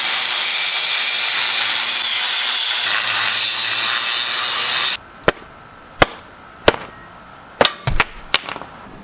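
Power saw cutting through metal on an old OBS-era Ford truck, a loud steady broadband grind for about five seconds, then stopping, followed by several sharp metallic clanks and knocks of parts and tools.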